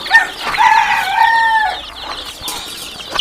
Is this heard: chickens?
yes